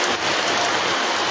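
Heavy rain pours down in a village, a dense, steady hiss of drops beating on surfaces close by, continuous and loud with no pauses and no voices.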